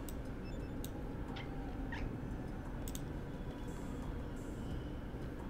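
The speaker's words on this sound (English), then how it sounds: "My cat must see another cat out the window because I can hear it chirping." A house cat makes a few quick, faint chirps and trills, likely at another cat outside a window, scattered across a few seconds over a steady low background hum.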